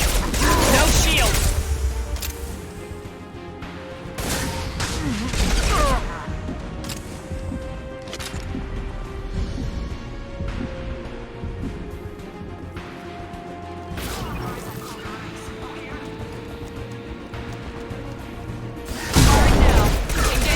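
Gunfire and impacts in the video game Mass Effect 2 during a hardcore combat mission burst out in loud bursts at the start and end, with game voices and mechanical sounds in between.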